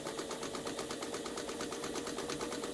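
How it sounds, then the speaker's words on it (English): A Pfaff 130 sewing machine stitching, a fast, even mechanical chatter that runs steadily and quietly for the whole stretch, with no voices. "Hold your threads for this first couple of stitches to lock the stitch."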